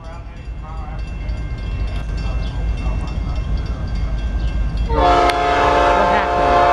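A Norfolk Southern southbound mixed freight train passes in Marion, Ohio. A loud, steady rail rumble builds, then a long, blaring horn blast sounds close by at the end.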